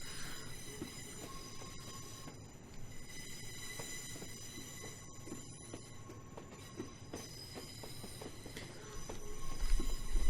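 A British Rail Class 37 diesel locomotive in a train simulator game rumbles steadily with metallic wheel squeals and rail noise, the engine drone growing louder near the end; no voices.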